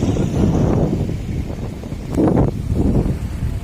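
Strong wind at sunset in San Juan, Abra buffets the microphone in loud, continuous gusts with a low rumble and rustling.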